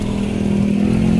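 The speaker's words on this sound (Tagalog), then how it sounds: "Yun yung motor na naman." Motorcycle engine on a street at Madrigal, a steady loud drone with a strong low hum that stays up close and constant throughout, with no voices over it.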